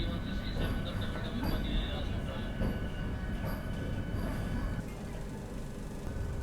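Inside a Vande Bharat train pulling out of New Delhi station, a steady loud rumble of wheels and carriage noise continues throughout, with faint rhythmic clicks and a person talking over it.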